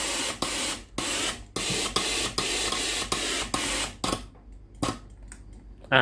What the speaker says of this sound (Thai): กดปุ่มจ่ายน้ำแล้วนะครับ แล้ววาล์วน้ำก็กลับมาทำงานอีกครั้งหนึ่งนะครับ